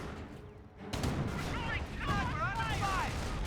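Gunfire rattles through a Company of Heroes battle, with a quieter opening, then a sharp onset of dense shots and blasts, and a voice speaking over the din.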